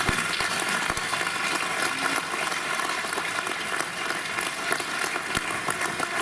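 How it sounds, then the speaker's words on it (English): Steady, dense applause from a large crowd at a high school winter concert, loud and continuous throughout with no pauses. "let's give them a round of applause"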